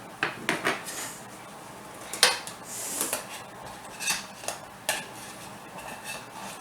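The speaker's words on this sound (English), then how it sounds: "now I'm going to take my knife and just cut a few pieces that way" A knife clinks and scrapes against a pan while cutting through a macaroni casserole, giving a scattered series of light metallic taps and scrapes, moderately close and quiet, with no voices.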